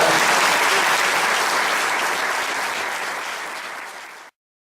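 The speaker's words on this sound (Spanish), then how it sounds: "merece el mayor de los aplausos" Audience applause at a book presentation in Córdoba fills the room as steady, dense clapping that slowly fades before stopping abruptly.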